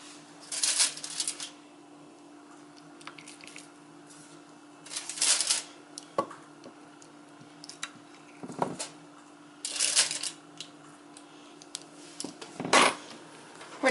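Tongs lift Atlantic salmon pieces into a tinfoil container, producing several short crinkling, clattering bursts spaced a few seconds apart over a quiet hum, close and moderately loud, with no talking.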